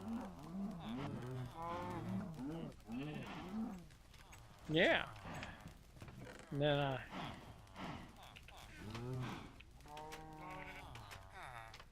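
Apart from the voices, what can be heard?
cows mooing in Minecraft video game slaughterhouse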